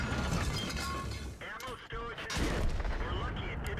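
A loud E75 tank cannon shot booms in a video game battle, layered with continuous mechanical rumble, clanks and other gunfire.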